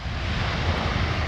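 Steady broadband roar of an Egyptair Boeing 777-300ER landing at Edmonton Airport, loud and continuous with wind buffeting the microphone.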